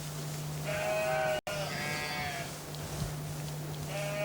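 Newborn lambs and a ewe bleat in a quavering, repeated way close by, three distinct calls spread across a steady low hum, with a brief dropout between them.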